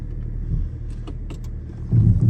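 A 20-year-old rear-wheel drive BMW E39 drives through snow, its engine a low steady rumble from inside the cabin, with a few small interior clicks and a slight rise in engine noise near the end.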